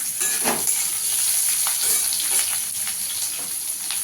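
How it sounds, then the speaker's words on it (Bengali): Onion is added to garlic frying in oil in a pan, giving a close, steady sizzle with bursts of crackle and stirring scrapes, heard on its own without talk. "রসুনটা একটু ভাজা হয়ে গেছে, এখানে একটু পেঁয়াজ দিয়ে দেবো"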